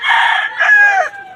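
A backyard gamecock rooster gives a single loud, close crow lasting just over a second, rising and then trailing off.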